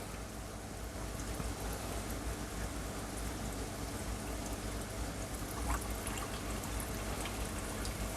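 Aquarium sponge filter running, a faint continuous trickle and patter of flowing water with light bubbling, quiet and steady throughout.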